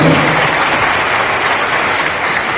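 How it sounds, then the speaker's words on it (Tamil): Audience applause greets guests invited onto the stage at the 17th anniversary celebration of a Tamil daily newspaper: dense, steady clapping from a crowd that holds at an even level throughout, with no voices standing out. "ஒரு பலத்த கைத்தட்டோடு"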